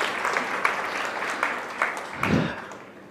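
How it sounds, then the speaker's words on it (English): Steady applause from a crowd, a dense patter of clapping that continues throughout at moderate loudness. "I'd love to have a round of applause for everybody who's here online for this session"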